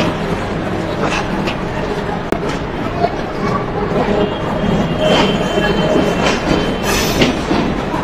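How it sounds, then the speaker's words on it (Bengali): The Sundarban Express pulls out of Jessore railway junction bound for Khulna, a dense steady rumble of train and station noise with faint rhythmic clatter and scattered sharp knocks, fairly loud throughout. "সুন্দরবন এক্সপ্রেস ট্রেনটি 3 মিনিটের যাত্রা বিরতি শেষ করে তার গন্তব্য খুলনার উদ্দেশ্যে ছেড়ে দিল"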